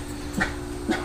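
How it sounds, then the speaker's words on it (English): A dog named Coco in a garden growing garlic gives two short, soft yips or whimpering barks about half a second apart over low background noise. "Nobody wants to hear your barking"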